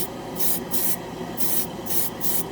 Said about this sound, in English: I think this is Tamiya gray in the spray can.